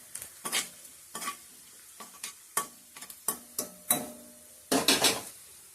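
Onion frying in a pan as spices are added and stirred in, heard as a series of close scraping stirs with sizzling bursts, louder strokes near the end, and no talk.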